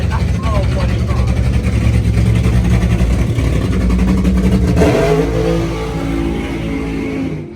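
A nitro funny car at a nighttime drag race event roars loudly and continuously as it revs during a burnout, then eases slightly toward the end. An announcer talks over it.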